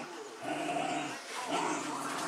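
A puppy whimpers and whines softly in a few drawn-out, wavering cries, close by and fairly quiet.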